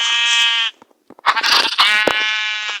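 Sheep in the Minecraft video game bleating loudly and close, two drawn-out cries separated by a short gap with faint clicks from gameplay.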